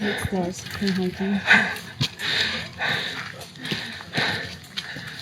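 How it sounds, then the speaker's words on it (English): Heavy, rhythmic breathing with loud panting breaths while hiking uphill on a dirt trail on a volcano, close to the microphone, alongside footsteps and a bit of voice. "can I just let you hear how hard I was breathing as we continuously walked uphill?"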